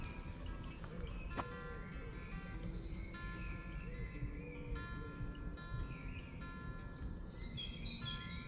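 Birds sing in Stoke Wood at West Ash near Chichester. Several chirps and whistled calls repeat over a soft woodland background hum with faint insects, fairly quiet and at a moderate distance.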